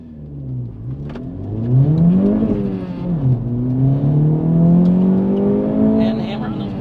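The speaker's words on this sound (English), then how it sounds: "we race up to that fake stoplight as fast as we can just to hammer on the brake" A 2024 Acura Integra Type S in Sport Plus accelerates hard from a launch, its engine note climbing steadily through the gears, with a brief drop at a shift, close and loud inside the cabin.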